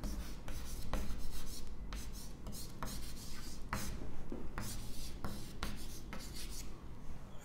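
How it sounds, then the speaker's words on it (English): Marker or chalk writing on a lecture board, a steady scratchy rubbing with repeated short strokes and taps, close and continuous through the passage with no talk. "So let me write energy"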